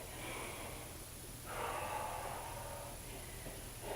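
Steady, faint breaths between kettlebell swings during a workout, several soft noisy exhales in sequence over a low background hum.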